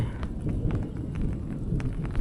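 Rain falling steadily through a late-winter first shower, with low rumbling thunder rolling underneath the continuous patter at a moderate level.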